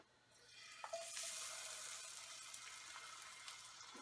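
Besan cheela batter of gram flour poured into a hot pan, sizzling into a steady broadband hiss that rises sharply near one second and holds on, with no talking.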